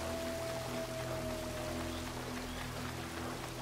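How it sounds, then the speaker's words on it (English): Rushing waterfall in the Uncharted video game, a steady, even wash of falling water with a faint tonal hum beneath, continuous and fairly soft. "Let's go through this waterfall."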